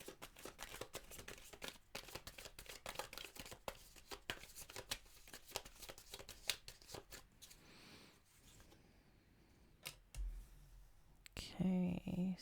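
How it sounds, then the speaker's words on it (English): Tarot cards riffled and shuffled repeatedly in quick crisp bursts, followed by a quieter stretch and a few soft handling sounds near the end. "So I'm just going to start by shuffling"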